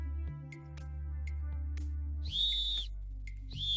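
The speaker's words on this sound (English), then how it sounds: "John used his whistle to attract attention." Two shrill, high whistle blasts, the first longer, sound over a low steady hum with faint ticking.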